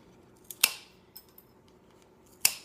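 Scissors trimming a cellophane bag for a cupcake bouquet, with two sharp, close snips about two seconds apart and a few faint rustles and small clicks between them.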